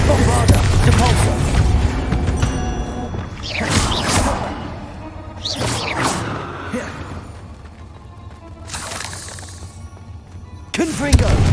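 Explosive spell blasts from the Hogwarts Legacy video game, several booming bursts with crashing debris and rumble spread across the span, mixed with shouted spell incantations.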